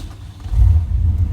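A 1991 Chevrolet Scottsdale pickup with a faulty starter catches and runs, its engine rising to a steady, close, loud low rumble after a brief crank with no talk.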